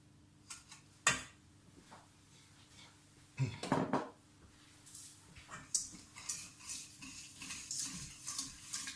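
Sugar being stirred in a pan to dissolve for ginger cake, with scattered light scrapes and clinks of a utensil against the pan, a louder clatter near the middle, then steadier stirring taps toward the end.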